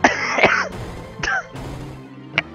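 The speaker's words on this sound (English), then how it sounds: "when I put on a voice like that, I pretend to cough" A few harsh, throaty coughs in quick succession, close and fairly loud, with short pauses and a final sharp cough after a gap.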